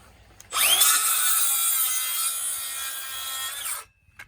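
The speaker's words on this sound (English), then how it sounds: "Gotta love a good power tool." A power saw whines through wood for about three seconds, a loud steady grinding buzz that starts and stops abruptly.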